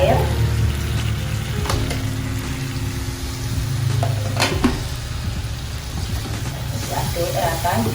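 Egg stew in soy-sauce seasoning stirred in a pan after water is added, with a soft bubbling sizzle and a few scraping spoon strokes against the pan, steady at moderate volume.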